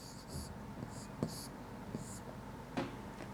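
Chalk or marker scratches across a classroom board during a Class 6 science lesson on food components, several short strokes with small taps between them, close and quiet over faint room noise.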